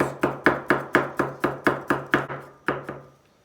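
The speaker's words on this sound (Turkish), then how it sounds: "Doğradığımız sarımsakları çok ince doğrayacağız" Knife chopping garlic finely on a board: about a dozen crisp, evenly spaced cuts, close and clear, slowing and stopping at the end.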